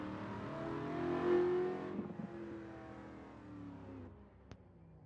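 Drift cars rev in a sim racing game as drivers pull up to the lights, one engine swelling to a roar and then easing off into a lower, wavering drone.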